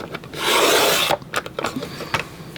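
Paper strips about half an inch wide are cut for a scrapbook travel album: a close, sustained rasping slide of the blade through the sheet, followed by a few softer rustles and taps.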